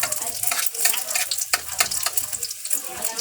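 Dried fish and eggs frying in a pan, a steady crackling sizzle with bursts of spattering and some stirring, loud and close throughout.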